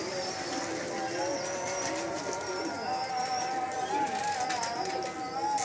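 A flock of pigeons being fed and watered at evening coo softly and continuously in the background, a low murmuring with a faint steady hum underneath, under a man's quiet speech.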